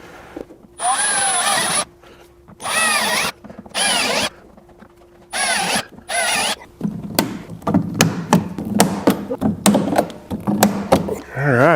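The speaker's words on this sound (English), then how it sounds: "I'm gonna go ahead and start drilling some holes and we can start putting the rivets in." A power drill bores holes through a fender flare on a Jeep Gladiator in several short, loud whirring bursts. Rapid clacking pops of a rivet tool follow, close up.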